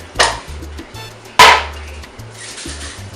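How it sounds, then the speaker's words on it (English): Two short, loud bursts of hissing cooking spray, about a second apart, followed by fainter soft spritzing. "Spray a little bit."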